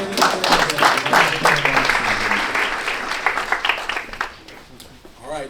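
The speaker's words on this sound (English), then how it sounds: "So let's give her a round of applause." A crowd claps and applauds at a boxing and combat sports awards event, dense at first and gradually thinning out, with voices mixed in near the end.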